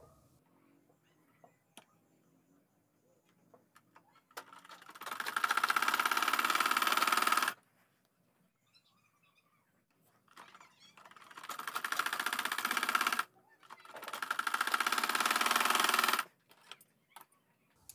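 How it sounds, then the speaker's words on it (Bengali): An electric sewing machine stitches a kameez shoulder seam in three loud, close bursts of rapid, steady whirring, separated by quiet pauses with faint handling clicks and fabric rustle. "এখানে আমরা ডাবল করে সেলাই করে নিব"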